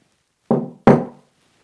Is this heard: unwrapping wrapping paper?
no